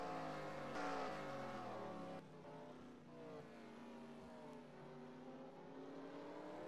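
Race car engines in a racing video game at the Circuit of the Americas, several cars droning and revving with shifting pitch as they accelerate off a corner, loud and continuous with no talk.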